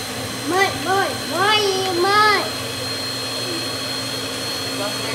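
An electric mixer beats colorful chocolate cake batter with a steady loud whir. Someone talks briefly over it at the start.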